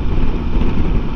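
Gusty wind buffets the microphone while riding a three-cylinder motorbike, a loud low rumbling roar that pulses unevenly throughout with no talk.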